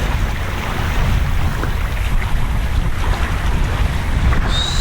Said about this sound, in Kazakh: Сол вақталдан жел соғып тұр.